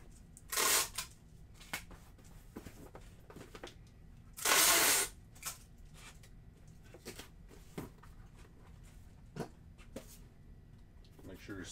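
Packing tape is pulled off a roll and pressed onto a shipping box, with two loud ripping bursts of tape separated by softer handling, rustling and small taps nearby.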